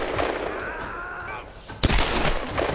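Gunfire in Tomb Raider Definitive Edition, a single sharp loud shot cracking out over a busy background of distant battle noise, close and brief.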